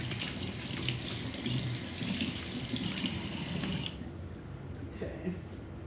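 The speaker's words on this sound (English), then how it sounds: "Let me wash my hands." Hands are washed under a running kitchen sink tap, a steady splashing water flow that cuts off partway through, leaving quieter room sound with a few light clinks afterward.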